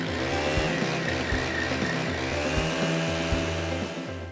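A Stihl power tool running hard with a loud, buzzing two-stroke engine whine and small pulses in the revs, close and continuous before it eases off slightly at the end.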